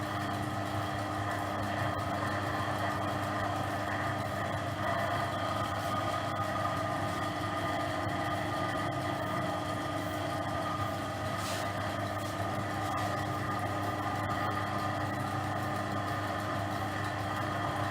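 Lathe motor with a refitted pulley running steadily, a constant mechanical hum and whir with no change in pace throughout.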